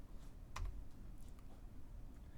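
Faint clicks of typing on a computer keyboard during a linear algebra lesson, a few scattered keystrokes with one sharper tap, quiet and close with low background hum.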